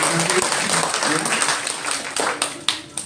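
Congregation in a church service clapping for a guest named Bapak Paulus, a brief burst of hands that thins out toward the end while a voice carries on over it.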